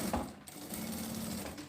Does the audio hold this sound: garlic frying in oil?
no